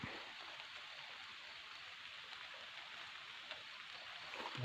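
Light rain falls on a rubber plantation during rubber tapping, a soft, steady hiss with no other sounds standing out, faint and even throughout.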